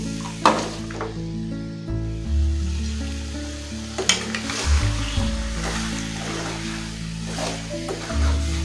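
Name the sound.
masala-marinated chicken sizzling as it is sautéed in the pan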